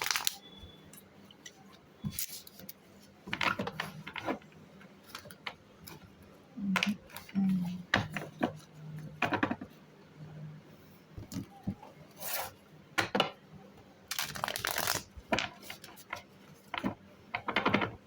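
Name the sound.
shuffling tarot cards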